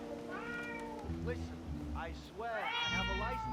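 A cat meowing in the Hitman World of Assassination video game: several drawn-out, rising and falling meows, fairly close, with a person talking over parts of them.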